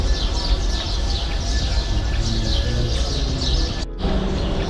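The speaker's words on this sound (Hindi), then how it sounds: "आपको शायद ना चिड़ियों की कुछ चहचहाट सुनाई दे रही होगी" Birds chirp and tweet in repeated bursts against steady outdoor background noise, with a brief cut near the end.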